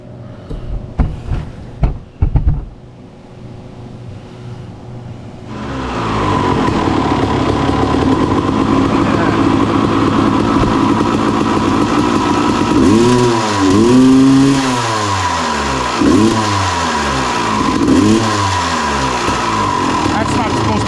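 A 1995 Honda CR 250 dirt bike, long unused and bogging, starts up after a few sharp knocks and runs loudly close by, its engine rising and falling through repeated throttle revs.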